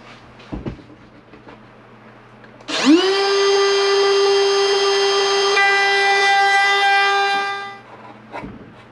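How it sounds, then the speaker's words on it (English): A power tool cuts a notch for mounting hinges. Its motor spins up sharply into a loud, steady high whine that holds for about five seconds, then winds down. Faint handling knocks come before and after. "let's cut our second notch"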